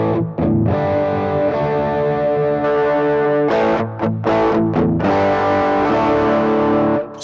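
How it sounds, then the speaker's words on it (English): Electric guitar through an HX Effects unit simulating an Orange amp with a 4x12 cabinet, distorted chords ringing out with a few brief stops between strums, loud and close with no talking. "This one's supposed to sound like an orange with a 412 cab."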